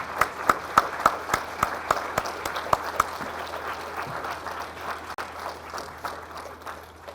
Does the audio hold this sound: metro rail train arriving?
no